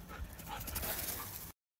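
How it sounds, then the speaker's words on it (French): A pet dog, a female, pants and whimpers close by, with quick breathy huffs and a few soft high whines for about a second and a half before the sound cuts to silence. "C'est mon chien"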